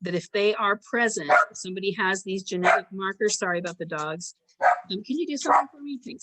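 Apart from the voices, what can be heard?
dogs barking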